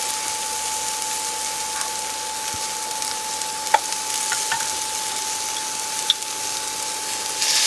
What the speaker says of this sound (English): I'm just going to stir this up and let those onions cook up a little bit.